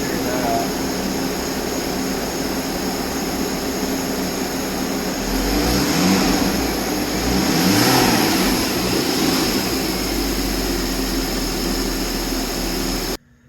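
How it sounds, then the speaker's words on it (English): A flood-damaged Porsche 981 Cayman engine runs with a steady, loud idle drone, swelling briefly in the middle as if revved, then cutting off abruptly at the end, with voices talking underneath. "Finally got the Cayman running."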